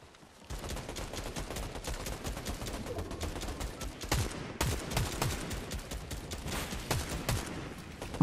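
A turret in Fortnite firing sustained rapid bursts, a steady rattling stream of shots at moderate distance that runs for several seconds after a quiet start.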